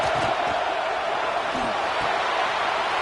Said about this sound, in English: 3rd down play in the red zone, and this crowd is at fever pitch